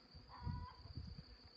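Honey bee swarm clustered on a tree branch, a faint soft buzzing drone with low rumbling bursts and a steady high whine over it, no talking.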